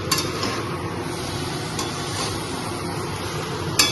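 Pabda fish frying in a pan gives a steady close sizzle and crackle, with a few faint clinks of a utensil against the pan and no talking.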